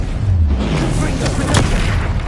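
Confringo explosion spell cast during combat in the video game Hogwarts Legacy, a deep booming blast with low rumble sustained across the moment, dense and loud amid other spell effects.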